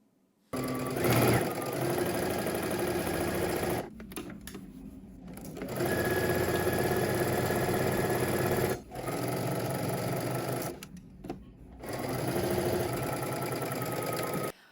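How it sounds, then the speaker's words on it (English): A sewing machine stitches the side seams of a skirt at a 5/8-inch seam allowance, whirring steadily and up close in several long runs, with short pauses where the fabric is repositioned. "let's head to the sewing machine. We're gonna stitch the side seams of our skirt"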